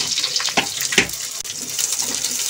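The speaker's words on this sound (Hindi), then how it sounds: "अब मैं इसमें प्याज डाल दूंगी" Onions tipped into hot oil for Indian-style masala macaroni give a loud, steady sizzling hiss with a few sharper spitting bursts, no voices.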